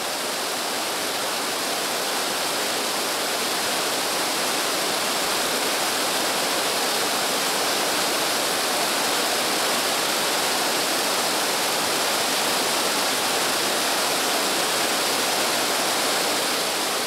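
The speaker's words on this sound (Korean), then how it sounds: "계곡을 따라 올라가자 시원한 폭포 물줄기가 보인다." A waterfall pours into a stream valley swollen after rain in Krabi, Thailand, giving a loud, dense, unbroken roar of rushing water close by with no other sounds.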